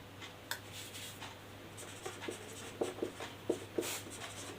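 Marker or chalk scratching across a board during a Hindi-language maths lesson on ratios, with a low steady hum underneath and a series of short, distinct strokes tapping and squeaking in quick irregular bursts.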